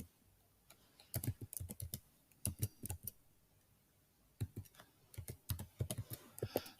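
Debit or credit card details being entered on a computer keyboard at an online payment gateway: close, quick bursts of key clicks in several clusters separated by short pauses, with no speech.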